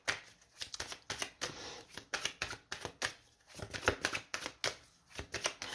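Tarot cards handled on a table, with a rapid series of soft slaps, shuffles and sliding flicks in uneven bursts, close and fairly quiet, with no speech.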